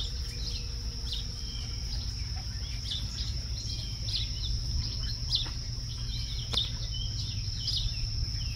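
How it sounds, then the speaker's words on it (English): Small birds chirp and tweet intermittently in a Japanese garden over a steady high insect-like buzz and a low rushing water hum. "You hear the water, the birds,"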